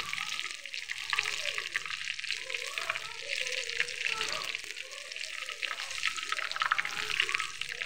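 Curry leaves frying in hot oil for paneer 65, a steady crackling sizzle running throughout, close and moderately loud, with a faint voice underneath.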